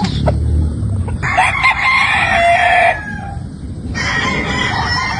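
A Tornado Hatch gamefowl rooster in San Ildefonso, Bulacan, gives one loud, close crow lasting about two seconds, then background yard noise.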